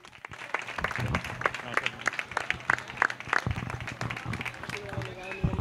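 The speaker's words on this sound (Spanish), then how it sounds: "Un fuerte aplauso." Audience applause at an award ceremony for a pepper festival, lively irregular clapping from a crowd with a voice talking over it.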